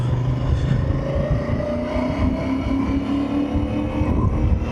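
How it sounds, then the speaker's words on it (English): A CF Moto 450 MT motorcycle on a test ride, with a steady, loud engine drone and road and wind roar held at a constant level, the engine pitch rising slowly and no voices. "who guessed the CF Moto 450 MT? I think a lot of you guys. We're just on our way for a test drive."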